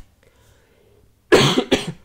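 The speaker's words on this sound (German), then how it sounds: "Oh, husten muss ich auch noch." Two close, loud coughs burst out one after the other near the end, following a quiet stretch.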